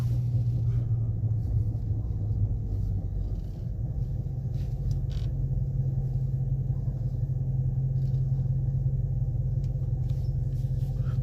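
A Dodge Charger engine rumbles steadily and loudly at idle nearby, a deep continuous throb with no talking.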